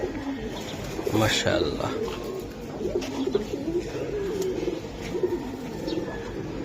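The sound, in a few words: silver Giribaz pigeons cooing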